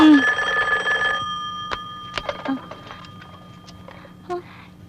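An old-style telephone bell rings loudly and alone for about a second, then stops, followed by a few light clicks and knocks of the handset being handled.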